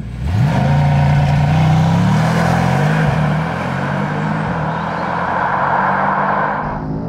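A facelifted Mercedes-AMG E63S launches hard under launch control, its exhaust roaring loudly as the engine note climbs through the revs, then settles into a sustained, slightly quieter drone that tapers off at the end.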